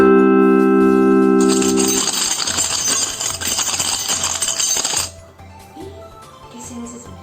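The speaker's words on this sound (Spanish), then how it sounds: "Son las llaves" A bunch of keys jingling and clinking in a bright, metallic burst for a few seconds, then someone speaks in Spanish.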